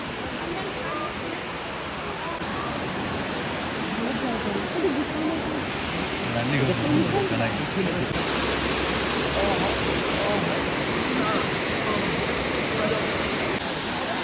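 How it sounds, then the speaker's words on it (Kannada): Elephant Falls, a waterfall in Meghalaya near a cave, roars as a dense, continuous rush of falling water. It is loud and steady for the whole stretch. "ನೋಡಿ, ಇದುವೇ ಎಲಿಫೆಂಟ್ ಫಾಲ್ಸ್."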